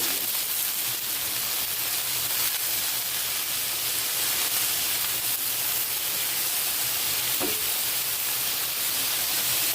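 Okra frying in a pan with salt, a steady, dense sizzle and hiss throughout while it is stirred continuously, close and even in level with no talking.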